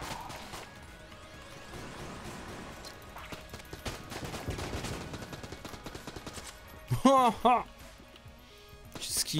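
Video-game gunfire and bullets in Enter the Gungeon rattle in rapid clustered bursts and whooshes, with a sharp flurry of shots near the end, while someone talks over the action.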